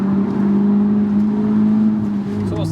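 Audi S3 engine revving from the cabin, a loud sustained drone that holds steady and then drops away near the end.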